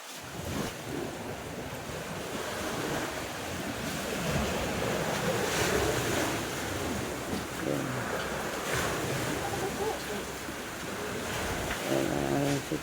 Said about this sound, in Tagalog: Ayan, ang laki ng mga alon.